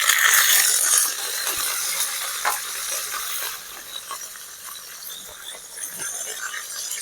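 Green chillies and curry leaves crackle and sizzle in hot oil, a bright, busy spatter that stays loud at first and then softens, with occasional pops and stirring clicks.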